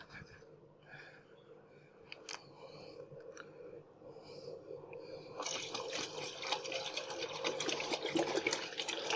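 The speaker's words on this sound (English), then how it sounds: "Yeah, I'm splashing milk everywhere." Bottles of non-homogenised milk are shaken, giving a rising wet sloshing and splashing that builds louder toward the end, close by, with faint background noise.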